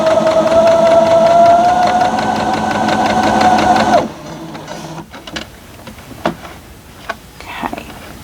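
A sewing machine stitches a quilt block in a steady, rapid, mechanical whir for about four seconds, loud and close, then stops, leaving a few light handling clicks and taps.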